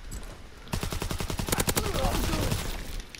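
Sten submachine gun firing in Call of Duty WW2, a rapid close burst of automatic shots that runs for a few seconds.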